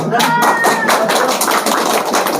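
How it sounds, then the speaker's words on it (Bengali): An audience bursts into dense, steady applause for Chhau dance master Bikash Mahali, many hands clapping close and loud throughout with a few faint whistles over the crowd. "সবাই মিলে একটা মারিয়ে দাও জোরসে হাত তালি"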